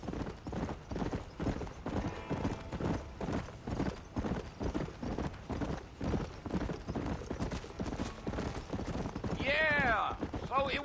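Horse hooves galloping in the video game Red Dead Redemption on Xbox 360, a steady rhythmic clip-clop running throughout, with a horse whinny near the end.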